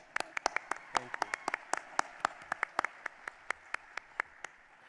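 Audience at an awards ceremony claps for an honored volunteer: sharp, distinct handclaps, fairly sparse and moderately close, with a voice talking over them.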